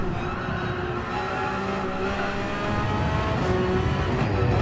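Group 3 race car engine in a racing video game at Red Bull Ring, droning steadily at high revs with tonal harmonics rising and falling through gear changes, loud and continuous with no talk.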